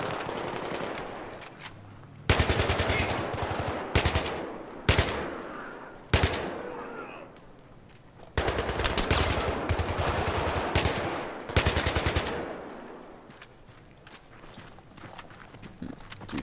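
AK-47 fire in the video game Battlefield 3: loud bursts of automatic gunfire in several separate volleys, sharp and close, with footsteps and quieter movement between them and no talking.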